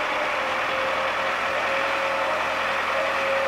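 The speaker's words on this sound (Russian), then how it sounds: "Да не, это как движок так работает" An MTZ-82 tractor, 2007, with roughly 7,000 engine hours, runs steadily nearby, giving a continuous engine drone with a sustained whine on top and no pauses or talk.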